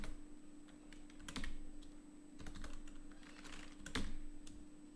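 Someone types a disk command on a computer keyboard, quick clusters of soft close key clicks with a heavier keystroke near the end, quiet and without talk.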